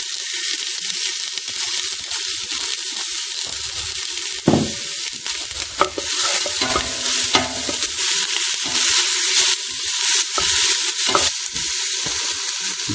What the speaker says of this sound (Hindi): दो मिनट हमने इसको भी फ्राई किया है